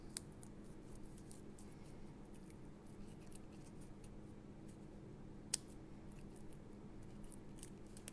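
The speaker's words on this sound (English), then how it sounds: "we're just gonna snip this right out of here" Scissors snip through paper during a paper-craft scrapbooking session, giving faint, sparse clicks with one sharper cut, over quiet room hiss and no talking.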